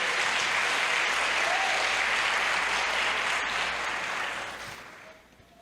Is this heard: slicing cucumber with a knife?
no